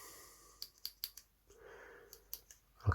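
Several sharp metallic clicks in a quick series as the small scissors of a Victorinox Swiss Tool Spirit MXBS multitool are opened, followed by a brief soft rustle and another click, close and quiet.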